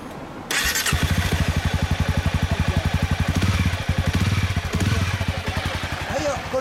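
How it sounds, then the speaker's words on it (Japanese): A 2014 Honda CB1300 Super Four motorcycle with an aftermarket Maverick exhaust fires up after a brief quiet moment, then settles into a loud, rhythmic, throbbing idle with a deep chugging exhaust note, close by. "エンジン音聞かせてもらえる。"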